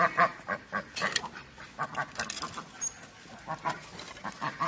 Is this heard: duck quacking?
yes